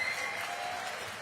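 Audience clapping at a 2024 San Francisco mayoral debate, a steady dense patter of many hands held at an even level through the moment with no voices over it.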